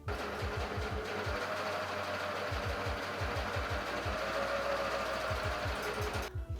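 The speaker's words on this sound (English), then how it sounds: "I'm gonna do this in an overlocker" An overlocker stitches double-layered swimsuit seams, a loud fast mechanical whir with rapid rhythmic thumping that slows and resumes in bursts before stopping at the end.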